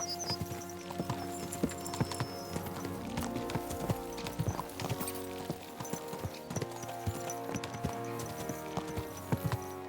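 Horses' hooves clip-clop in a steady, busy rhythm while riding in Kingdom Come: Deliverance 2, with a continuous layered backdrop of game ambience and music beneath the repeated hoof strikes.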